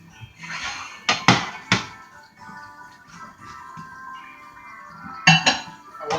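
Spoon scraping and clinking against a pot while mac and cheese is stirred, a few sharp metallic clinks in two clusters over quiet background noise, with no talk.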